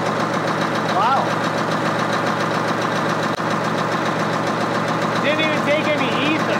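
An old bulldozer's diesel engine idles with a steady, loud, even rumble throughout, while people talk faintly over it.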